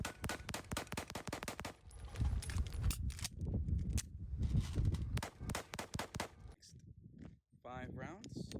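Rapid volleys of sharp, loud pistol shots from a Wilson Combat SFX9 3.25 with factory compensator, five rounds at a time on a shooting range, cracking close by with a voice talking between and over the shots.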